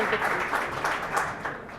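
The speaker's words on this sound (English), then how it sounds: "I just want to say maybe a round of applause to them" A crowd applauding at an award ceremony, a dense steady wash of clapping at moderate volume for about two seconds.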